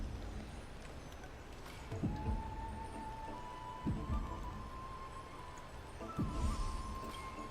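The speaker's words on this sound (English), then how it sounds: "I'm a vampire and I'm hearing a heartbeat." A heartbeat sound effect in the video game Honkai Star Rail thumps slowly, about three low beats spaced two seconds apart, over a quiet ambient hum and a sustained tone.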